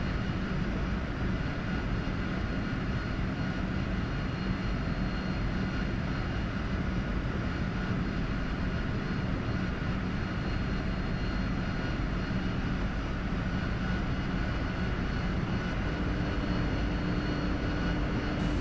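Steady, continuous roar of a Harrier jet engine at idle during a descent in the DCS flight simulator, a constant broadband drone with no pauses.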